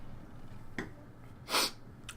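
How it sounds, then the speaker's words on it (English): A single short, sharp sneeze-like burst from a man, preceded by a faint sniff, stands out over a quiet background with no talking. "I have to sneeze, that's why I'm pausing so..."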